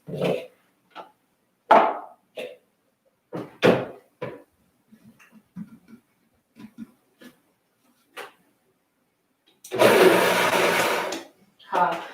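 A blender whirs peanut sauce for soba noodles in a home kitchen, a loud, steady burst lasting under two seconds near the end, after scattered clatter and talking.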